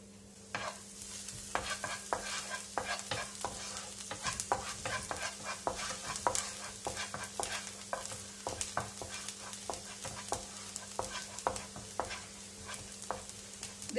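Chopped garlic frying in hot oil for chicken Manchurian, giving a continuous crackling sizzle with dense rapid pops and a spoon stirring through it, close and fairly quiet.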